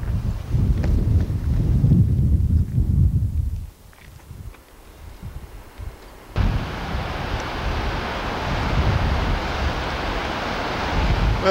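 Ocean surf beyond the sand dunes near Florence on the Oregon coast, a broad steady roar mixed with gusting wind buffeting the microphone, briefly dropping away midway before surging back loud and continuous.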